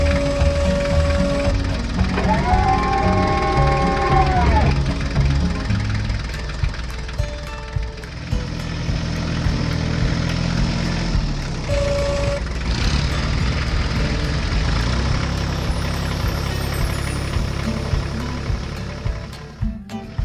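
Two farm tractors idle and rumble steadily side by side in a yard, a loud continuous engine drone with a brief tonal horn-like whine early on and scattered knocks.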